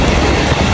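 A commuter train pulls into a station near Ghatkopar, a loud continuous rumble of wheels and carriages, with no talking.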